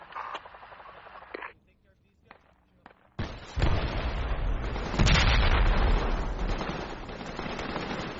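Grenade blasts in a military video game, a string of heavy booming explosions and crackling gunfire under radio-style voices, with a brief lull before the loud sustained barrage rolls in.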